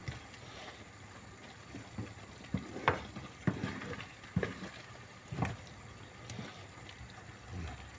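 Kavurma menemen being stirred in a frying pan: soft sizzling with irregular scraping and clattering strokes of the spoon against the pan, close and fairly quiet, no voices.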